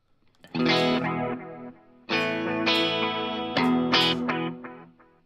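Sustained electric guitar chords ringing through a Flower Pedals Dahlia stereo dual analog delay pedal, a wide, doubled delay effect, played in three separate strums with repeats smearing the tails.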